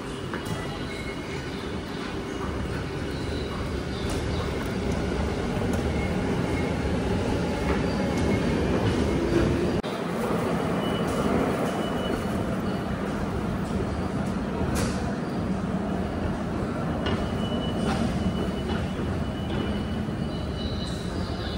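A train pulls in at a Tokyo station platform, its steady rumble and rolling wheels filling the space continuously, with faint wheel squeal and busy station ambience throughout.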